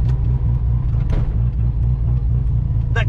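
A rotary-engine car running billet 13B rotor housings cruises on the street, its low, pulsing engine drone steady and close, with faint clicks and cabin noises over it.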